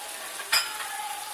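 Chopped tomatoes, four of them, dropped into a hot karahi of frying food: one brief burst of sizzle and clatter, then a steady frying hiss that carries on close by.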